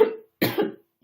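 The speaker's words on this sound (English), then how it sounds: "I have a cough." Two or three quick, dry coughs from one person in an interview setting, close and fairly loud, separated by short silences.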